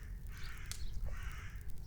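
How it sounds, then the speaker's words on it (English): Crows caw outdoors, a couple of harsh calls in sequence over a steady background of low ambient noise. "you can hear those birds saying"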